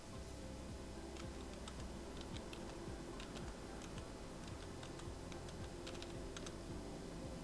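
Light keystrokes on a computer keyboard as an Aadhaar card number is typed into an online registration form, sparse irregular clicks in short bursts over a steady room hiss, faint and close, with no voices.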